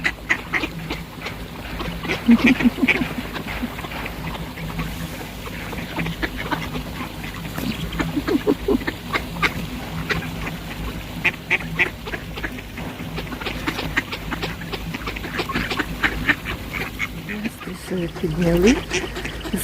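Ducks quack repeatedly over open water, some calls near and others farther off, with faint background noise throughout.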